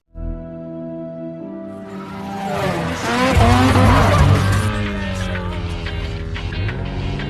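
Car drifting in a Fast and the Furious street scene: engine drone builds into a long, loud tire squeal with swooping pitch and screeching skids, then settles into a continuing engine roar.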